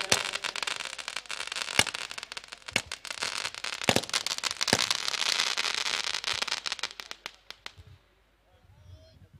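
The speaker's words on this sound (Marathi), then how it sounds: "फटाक्यांच्या आतिषबाजीनं इथे आमच्या गायकांचं स्वागत केलं जात आहे." Fireworks and firecrackers crackle and pop at an outdoor village kabaddi match, a dense barrage of sharp bangs over a crowd murmur. It fades toward the end.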